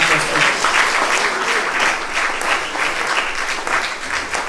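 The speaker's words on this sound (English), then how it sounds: "Can we please give her a clap of applause?" An audience at a sickle cell fundraising dinner and dance in the UK claps steadily, a dense, loud roomful of hands sustained without a break through the whole stretch, with faint voices mixed in.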